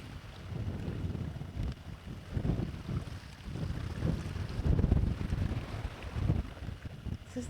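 Gusty wind on a Jordan hotel beach buffets the microphone in low rumbling bursts, with a steady outdoor roar and faint water or boat noise underneath.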